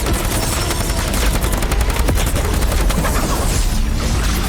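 Enemy gunfire in Fortnite rattles in dense, loud overlapping bursts, a steady barrage of shots and cracks filling the whole stretch without speech.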